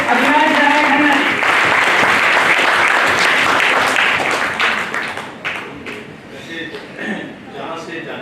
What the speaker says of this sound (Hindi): आप जोरदार तालियों से अभिनंदन कीजिए अविनाश राय खन्ना जी।